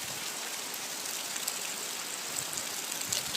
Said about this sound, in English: Yeah, it's just raining now.